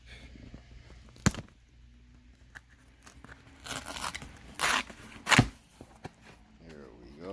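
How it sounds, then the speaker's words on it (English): Laptop packaging is sliced open from the top, with a few sharp tearing and crunching bursts of cardboard and plastic between quieter rustles, close up and with no talking. "I can cut it from the top."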